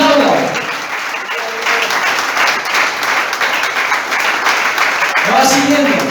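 A church congregation claps together in a steady, dense wash of applause that fills the room, with brief voices rising at the start and end.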